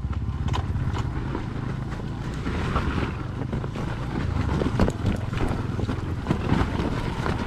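A Honda CRF150RB dirt bike on a trail ride runs with a low, steady engine drone after being bump started, heavily buried under constant wind buffeting on the microphone.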